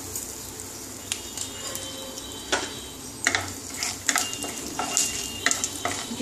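Dried red chillies and panch phoron with a pinch of asafoetida crackle in hot oil, a close sizzle punctuated by sharp spatula scrapes and clinks against the pan, no voices.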